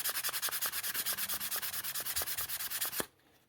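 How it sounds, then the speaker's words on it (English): Rapid, even back-and-forth strokes of sandpaper on a wooden model aircraft fuselage, about a dozen rubs per second, close and clear, then stopping abruptly. "There's very little sanding left."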